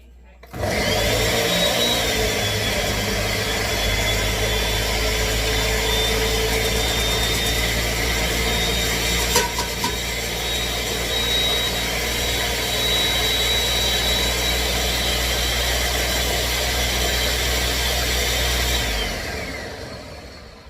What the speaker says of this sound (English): then I'm just going to hit it with a blender